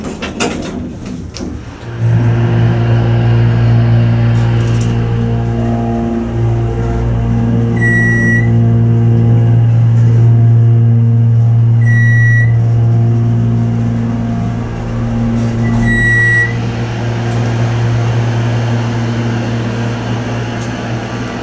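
Montgomery hydraulic elevator motor in a Dallas Love Field parking garage runs as a steady, loud low hum and drone with a faint higher whine, holding for about twenty seconds after starting up, with no talk.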